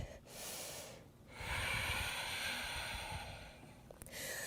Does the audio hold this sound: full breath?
yes